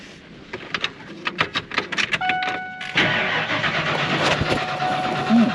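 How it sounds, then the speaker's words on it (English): A small dumper's engine cranks with a rapid series of starter clicks and whirs, then catches and settles into a steady, loud running drone nearby. "So I'm gonna go ahead and start up a little dumpy."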